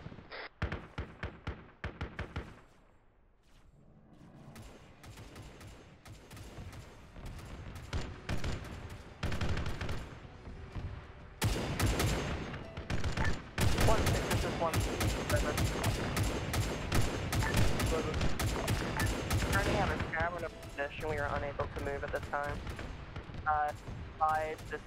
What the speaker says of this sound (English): Crew right turret and start shooting at it.